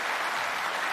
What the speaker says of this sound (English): And his family members applaud him for it